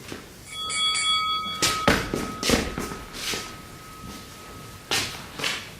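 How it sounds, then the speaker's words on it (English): A bell rings during a stage performance of Macbeth, its sustained tone starting early and holding for several seconds while footsteps and stage thuds sound around it. "Bell invites thee, but hear it not, Duncan, for it is a knell which summons thee to heaven"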